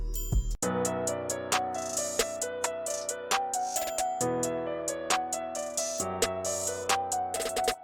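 Bell percussion in a Memphis-style beat made in FL Studio, bright bell notes ringing over a sparse rhythm of sharp hits and sustained low tones, moderately loud with no speech.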